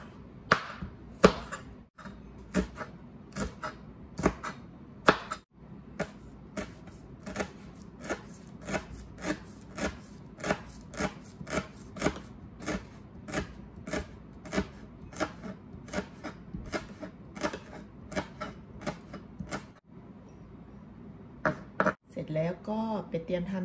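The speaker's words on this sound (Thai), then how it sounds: "ก็จะมาหั่นเครื่องนะคะหั่นพริกไปแต่งหน้าเนาะ" Chilies chopped with a knife on a board as a garnish for chicken panang curry, a fast run of sharp, steady knocks with brief pauses, close and clear, with a voice heard now and then.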